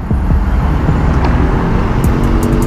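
Road traffic heard from a Raider 150 carb motorcycle, a steady loud rumble of passing cars and heavier vehicles with engine drone throughout and a few brief high hisses near the end.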